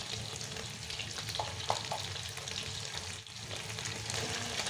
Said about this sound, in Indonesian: Lalu diaduk-aduk tumis hingga harum.